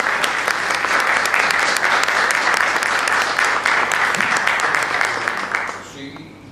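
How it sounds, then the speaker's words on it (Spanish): Sustained audience applause at a professional council event in Córdoba, a dense, steady clatter of many hands holding loud for several seconds before tapering off at the end. "Un fuerte aplauso para el señor Eduardo Gabriel Fernández."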